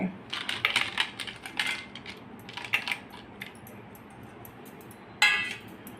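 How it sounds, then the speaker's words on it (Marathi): Ice cubes clatter and clink into a jar of watermelon juice in quick bursts, then one last rattling drop after a pause; no talking. "आता बर्फाचे तुकडे घालत आहे मी"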